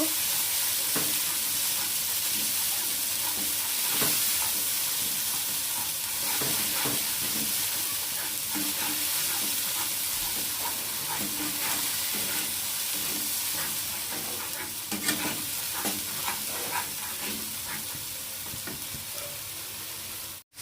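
Mustard-poppy paste with green chilli and ginger sautéed for pabda fish curry, sizzling continuously and close up with frequent scraping and tapping from stirring.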